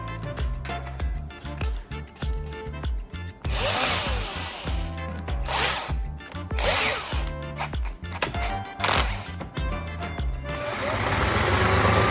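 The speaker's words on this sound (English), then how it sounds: "So I'll grind it down a little to make sure it fits snugly." A power tool whirs in short bursts as a copper tube is ground down, with handling clatter between passes and a longer grinding run at the end.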